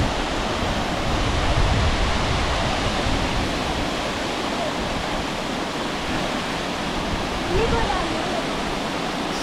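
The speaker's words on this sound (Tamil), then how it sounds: "செம்ம அழகாக இருக்குது ஃபால்ஸ் பார்த்தீங்கன்னா" Hebbe Falls waterfall at Kemmangundi roaring in a steady, dense broadband rush, loud and close, continuing unchanged throughout without pause.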